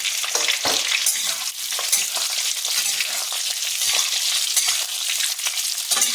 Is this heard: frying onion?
yes